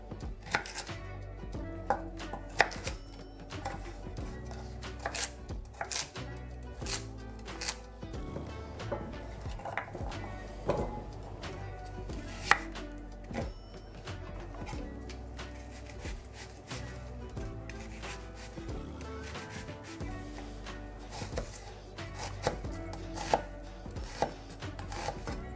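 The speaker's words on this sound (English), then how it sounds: "chopping the onion, as well as a garlic" A knife chops onion and garlic into small chunks on a board, producing a long run of quick, crisp, closely spaced knocks that keep a fairly even rhythm with brief pauses, heard close up and alone.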